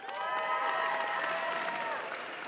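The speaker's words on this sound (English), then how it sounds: "remain standing for a collective round of applause" A crowd at an engineering commencement ceremony claps steadily in a sustained, dense round of applause that fills the space without pause.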